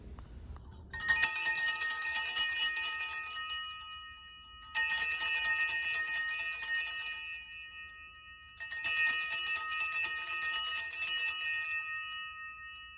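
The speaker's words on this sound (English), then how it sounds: "Here's another view of the bell being held in my hands while I ring it." A large hand bell rung by hand rings out loud and close in three separate bursts, each shimmering with bright metallic overtones that fade briefly before the next round. No one speaks.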